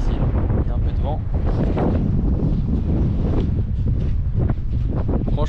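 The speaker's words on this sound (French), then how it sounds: "Ici il y a un peu de vent." Steady, loud wind buffeting the microphone outdoors at a mountain viewpoint, a constant low rumble filling the whole stretch with no pauses.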